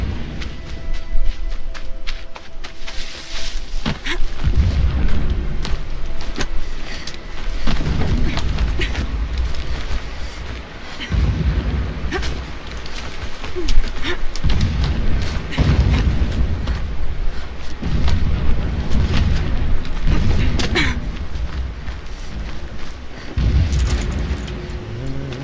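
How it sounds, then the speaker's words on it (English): Deep, rumbling booms roll through a Horizon Zero Dawn game scene, repeated distant explosions under a continuous low roar with occasional sharper cracks. "Explosions in the distance."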